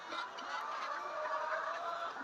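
A flock of layer hens on a poultry egg farm clucks and murmurs continuously, a dense, steady blend of many birds at moderate volume with no single call standing out.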